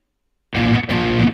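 An electric guitar played through a Sonicake Pocket Master set to distortion, two heavily gritty chord strums after silence, loud and close with a brief dip between them.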